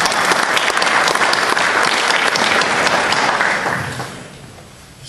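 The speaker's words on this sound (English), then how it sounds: "I think everyone should give themselves a round of applause." Dense applause from the audience at a candidates' meeting, a loud continuous roar of clapping that holds steady for about four seconds and then tapers off.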